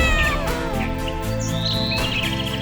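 A pet cat in an animated children's fairy tale meows repeatedly in a close, bright cartoon voice, over a busy musical backdrop with chirpy bird-like tones.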